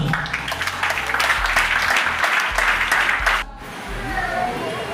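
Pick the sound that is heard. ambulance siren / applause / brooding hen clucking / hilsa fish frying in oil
applause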